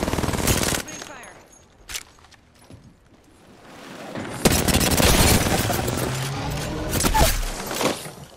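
Rapid machine-gun bursts and booming shots in Apex Legends gameplay, loud and close, with an early burst, a quiet gap, then sustained firing, under voices talking.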